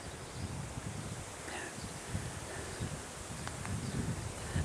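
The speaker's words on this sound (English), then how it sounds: "it's a good test for this microphone out in the full wind." Strong wind blows outdoors in a park in Christchurch against a microphone fitted with a small wind muff, making a steady low buffeting rumble with light rustling and no talk.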